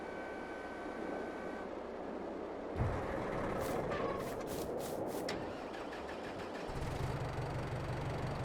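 A tractor engine in Farming Simulator 22 hums at low revs while unloading, with a brief clattering shift partway through before settling back to a steady idle.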